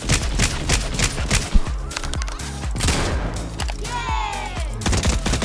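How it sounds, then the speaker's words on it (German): Rapid gunfire in the video game Fortnite aimed at the player, loud repeated shots in quick bursts across the whole stretch, with a whooshing effect near the end. "Mann, wer schießt mich da ab"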